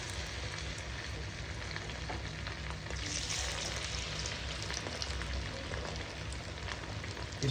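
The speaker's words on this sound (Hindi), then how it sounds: "और अब हम चिकन को डीप फ्राई करेंगे।" Chicken deep frying in hot oil for chicken 65, a dense, steady crackling sizzle with scattered pops, close and continuous throughout.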